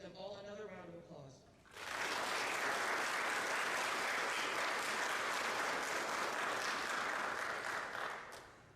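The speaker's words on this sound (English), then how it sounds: "Let's give them all another round of applause." Audience applause at a high school JROTC awards ceremony, a broad sustained wash of clapping that swells after a spoken introduction and holds steady for several seconds.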